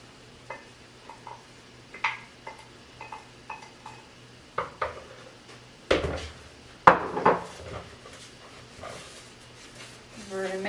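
Shortbread dough made with olive oil is mixed in a bowl, giving scattered knocks, scrapes and clinks of a utensil against the bowl, irregular and close, growing busier partway through, with a voice talking at times.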